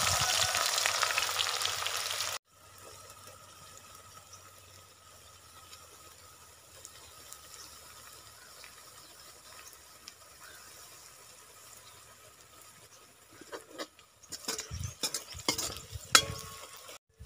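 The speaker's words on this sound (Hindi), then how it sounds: "अब इसमें प्याज और लहसुन इकट्ठा डाल देंगे।" Onion and garlic go into hot ghee together for chicken liver curry, giving a soft steady sizzle with occasional scraping and stirring of the pan, quiet and continuous after a louder opening burst.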